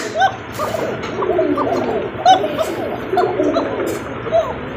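Male Koka pigeons coo in a repeated run of soft, throaty, bubbling calls, close by, with brief gaps between phrases and low background noise.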